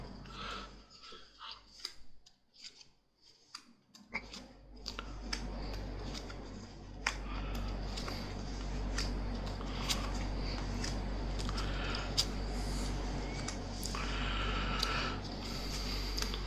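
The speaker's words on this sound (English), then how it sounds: "just have a little more patience with me while I'm placing these cards" Tarot cards laid one after another on a table for a 21-card reading give soft, irregular ticks and light slaps, close and fairly faint over a low steady hum, with no talking.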